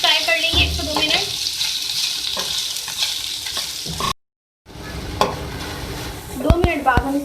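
Capsicum frying and being stirred in a pan as chicken macaroni samosa filling: a steady sizzle with scraping stir strokes, a brief silent gap midway, then louder clattering stirs and sizzling near the end.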